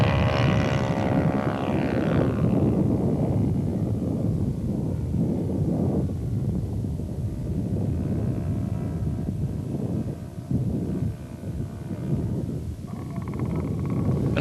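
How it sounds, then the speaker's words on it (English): Four-stroke engine in an FM2 Wildcat scale RC model plane at a 1984 scale competition, a loud steady drone passing near then droning on with wind buffeting the microphone, no voices. "Bob's Wildcat was also powered by a 4-stroke engine"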